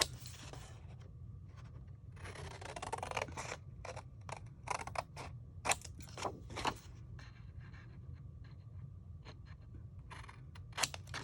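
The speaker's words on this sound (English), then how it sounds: "then you're going to cut along those lines" Scissors cut paper along drawn lines for a pop-up box craft, a series of close, crisp snips and slicing rasps in irregular bursts over a faint steady hum.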